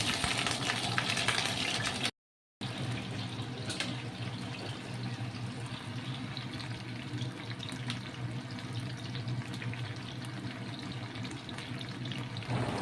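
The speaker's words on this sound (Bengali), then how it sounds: "এক এক করে ফুলকপিগুলো আমি ভাজতে দিয়ে দিচ্ছি।" Cauliflower florets fry one by one in hot oil in a wok, producing an even, continuous bubbling hiss at moderate level, interrupted briefly by a short silent gap early on.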